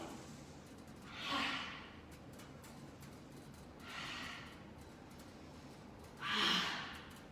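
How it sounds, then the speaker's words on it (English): Three breath cycles from a yoga class: slow, quiet inhales followed by quick, forceful exhales that rush out in noisy bursts, close and spaced a few seconds apart with no talking. "We'll have a nice long, slow inhale, And a really fast, expressive exhale."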